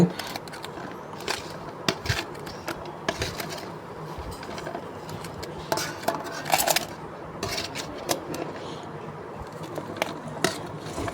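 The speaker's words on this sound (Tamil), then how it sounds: "இப்போ எல்லாத்தையும் ஒன்றா நல்லா மிக்ஸ் பண்ணிக்கிடுவான்" Vegetables are tossed and mixed with chili powder and turmeric, giving repeated close clatters and scrapes of a utensil against a metal vessel, coming in irregular bursts.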